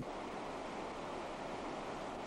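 Alaska's Chickaloon River flows right beside a parked vehicle, a constant, even hiss of rushing water that fills the scene without any voices.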